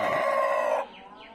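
A farm hen suffering in the heat gives one sustained, loud drawn-out call that cuts off abruptly, followed by quieter faint squawks nearby.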